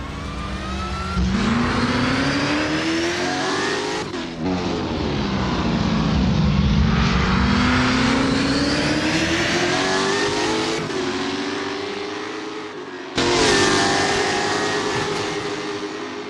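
A V8 Supercar race car in Assetto Corsa runs an out lap at Adelaide, its loud, close engine revving and sweeping up and down through the gears, with one brief gap before a sharp shift.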